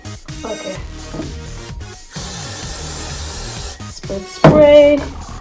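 Hair spray misted onto 4B/4C natural hair while styling a sleek ponytail: after some soft rustling and handling noise, a short, close, loud hiss bursts out near the end.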